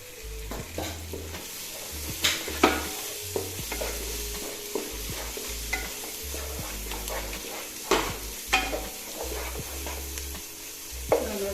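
Chicken pieces fry in a hot pan for Palakkad-style chicken biriyani, a continuous sizzle broken by repeated clunks and scrapes of a spoon stirring, close and fairly loud with no talking.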